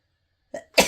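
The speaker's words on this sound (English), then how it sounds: "But this entire month I have been sneezing." A short gasping intake followed by a sharp, loud, explosive sneeze, close by, with no talking around it.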